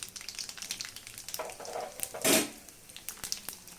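Mustard and cumin tempering seeds with dried red chillies crackling in hot oil for bhindi curry, a light sputtering sizzle with sharp pops and a brief louder burst midway, no talk.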